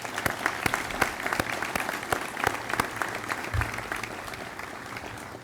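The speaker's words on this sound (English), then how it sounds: "give them a round of applause before we go on" A room full of people applauding at a military battalion commissioning ceremony, steady sustained clapping with sharp individual claps standing out, no voices over it.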